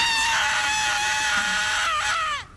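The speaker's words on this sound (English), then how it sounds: "Why are you screaming?" Cartoon character screaming in the animated series Kappa Mikey, a loud sustained high-pitched shriek held for about two seconds before sliding down and cutting off.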